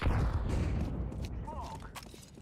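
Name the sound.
flashbang grenade going off in Counter-Strike 2 video game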